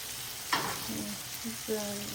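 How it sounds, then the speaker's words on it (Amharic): Spiced fish frying in a pan, sizzling while a spoon scrapes and stirs in spices, with a sharp clink near the start and low hum underneath. "እዚህ ጋር ቅመም እንጨምራለን፣ እናደባልቀዋለን።"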